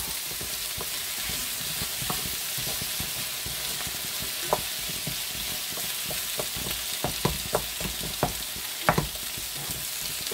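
Food sizzles steadily in a pan while a utensil stirs and scrapes, with occasional sharper clicks and knocks over the constant frying hiss.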